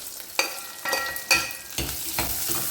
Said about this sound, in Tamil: இது கூட பூண்டு, வெங்காயம் 2 சேர்த்துறோம்.